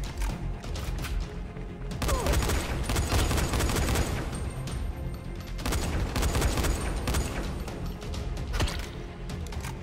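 Sustained heavy gunfire with recoil in Dying Light 2, dense loud volleys of shots firing in long continuous bursts with brief lulls between them.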